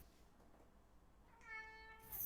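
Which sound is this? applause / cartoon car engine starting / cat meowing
cat meowing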